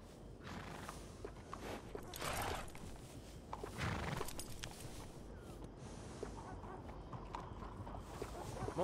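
Horse hooves clip-clop in Red Dead Redemption 2, a steady close walking rhythm with an occasional snort or whinny over outdoor game ambience, with some faint voices mixed in.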